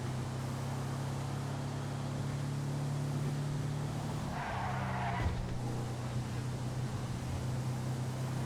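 Cars driving in GTA Online, a constant engine drone that shifts pitch partway through as a vehicle brushes past with a brief scraping burst, no talk over it.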